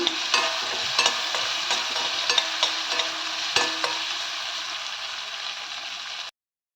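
Onions fry in a pan while being stirred, a continuous bright sizzle with scattered scraping clicks from the spoon, loud and close, ending abruptly.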